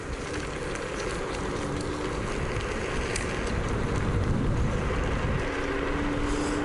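A Zero 10X electric scooter rides at full power on a single motor down a straight. Strong, steady wind rush and road rumble run throughout, with a faint motor whine underneath and no talking.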